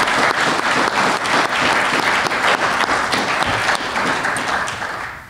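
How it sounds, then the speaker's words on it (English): An audience at a manufacturing forum applauds its panelists, dense sustained clapping from many hands that fades slightly at the end. "Please give them a round of applause for their time and their expertise."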